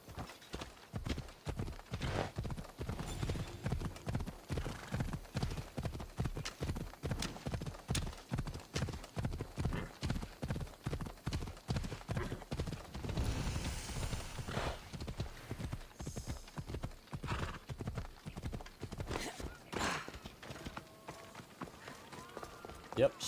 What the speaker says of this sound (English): Horse just ran away like